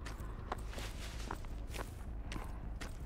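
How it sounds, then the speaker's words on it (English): Footsteps in the video game Dead by Daylight land in a quick, regular rhythm of light crunching steps, steady and moderately close over a low background hum, with no talking. "I hear footsteps."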